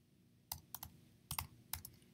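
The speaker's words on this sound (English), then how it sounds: "If you type Photoshop in here" Quiet keystrokes on a Mac computer keyboard come in short clusters of a few crisp clicks, with short pauses between groups.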